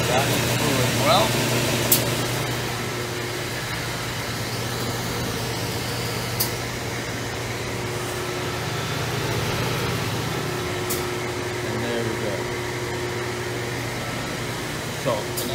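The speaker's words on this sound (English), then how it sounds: "we're going to run these pipes parallel to the grain through the edge rounding machine" Edge rounding machine processing stainless steel parts on a conveyor, a constant droning mechanical hum with occasional sharp clicks, steady throughout over a long stretch.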